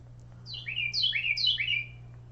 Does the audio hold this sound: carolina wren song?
yes